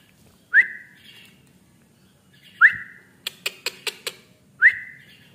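A white-eyed Asian pied starling (jalak kebo) during training gives three sharp rising whistled calls spaced about two seconds apart, with a quick run of five clicking ticks between the second and third.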